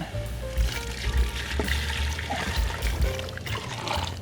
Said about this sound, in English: we're gonna pour the soup back in